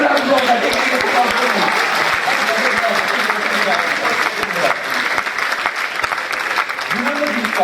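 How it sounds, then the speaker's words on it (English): An audience at a card-trick magic act bursts into loud, sustained applause that holds steady for several seconds, with a voice heard over the clapping. "give it a round of applause"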